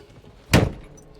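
A door is swung shut with a single loud, close thud, a short heavy slam with a brief rattle, surrounded by quiet on a farm.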